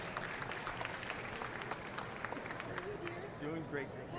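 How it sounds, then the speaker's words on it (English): Applause from an expo audience as a panelist from Swag Essentials comes up at a Shark Tank–style panel, a steady wash of clapping with a voice talking over it near the end. "Give her a round of applause."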